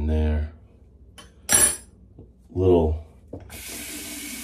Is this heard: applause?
no